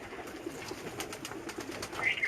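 Rampuri pigeons coo softly over a faint, steady background hiss. The calls are quiet and sound close but muted.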